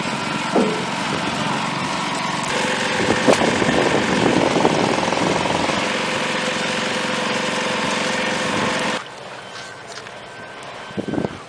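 Portable sandbagger engine running steadily while filling sandbags for flood control on the Red River in Fargo, a loud continuous droning hum that cuts off sharply near the end, leaving quiet background.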